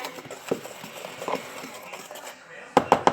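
A fork scrapes and taps lightly in a bowl while seasonings are stirred into flour, soft scratchy strokes followed by three sharp clinks near the end, with a voice talking quietly in between.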